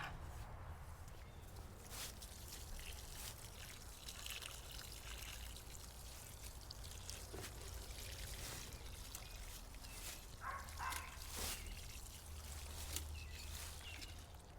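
Liquid blueberry fertilizer trickles steadily from a watering can, a continuous soft splashing and dribbling with no breaks, faint and close, with a few light knocks.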